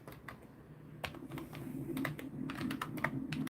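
Quiet typing on a computer keyboard, a steady run of soft key clicks with small bursts and pauses over a low background hum, with no talking during it.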